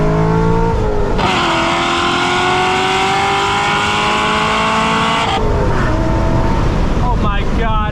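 A C6 Corvette Grand Sport engine revs hard and loud from close by, climbing steadily in pitch, with quick gear shifts breaking the rise near the start and again before the end.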